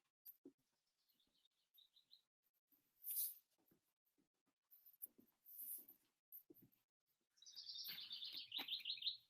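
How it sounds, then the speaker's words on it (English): Birds chirp and tweet outdoors near gardens and a sheep field, in scattered short calls with gaps between, ending in a brighter, busier burst of song; faint rustling and handling noises sit between the calls. "You hear the birds."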